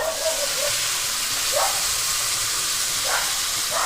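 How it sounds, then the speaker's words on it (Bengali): Water is poured into a hot pan of lightly fried vegetables for dudh sukto, giving a loud, steady steam hiss with faint sizzling. "এবার আমি পরিমাণ মতো জল দিয়ে দেব"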